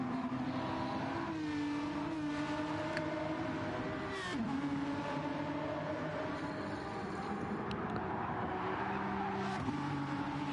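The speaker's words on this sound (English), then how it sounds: "Just let the engines do the talking for a little bit." Race car engines in a racing video game at Laguna Seca on the last lap, a continuous loud drone of several cars with engine pitch rising and falling through gear changes and corners, with no talk over it.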